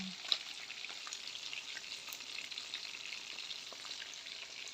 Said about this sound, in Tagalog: Tapos nagpiprito ako ngayon ng fish.